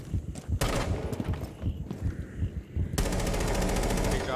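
Rapid automatic gunfire from a Rainbow Six match, bursts of close, loud shots for the first three seconds, then a sustained stream of fire to the end, with faint voices underneath.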